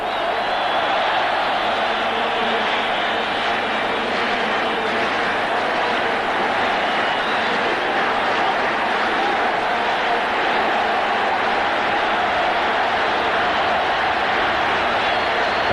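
An excitable crowd of about 80,000 fills a stadium during the 1990 World Cup qualifying football match between Iran and China, sustaining a dense, steady roar throughout with distant cheering swells.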